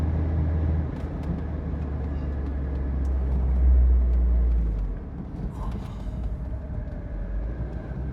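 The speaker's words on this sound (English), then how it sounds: "You just downshifted into third." A 1985 Alfa Romeo sports car is driven along after a downshift into third, with a steady low engine drone and road rumble that swell briefly and then ease off.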